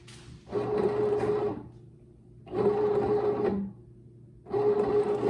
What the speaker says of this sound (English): the bread machine does the rest for you